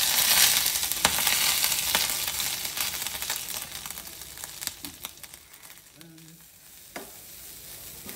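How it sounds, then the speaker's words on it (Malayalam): Grated coconut and curry leaves drop into hot coconut oil, giving a loud burst of sizzling that fades to a gentler fry, with scattered scrapes and taps of stirring and no speech. "എണ്ണ ചൂടായി, അതിലേക്ക് തേങ്ങ ചെരുവിയതും വേപ്പിലയും കൂടി ഇടാണ്."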